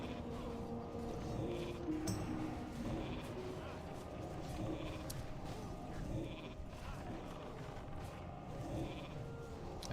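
Sheep bleat in World of Warcraft Classic, several short game bleats sounding over a background of ambient game sound, with a player talking at times.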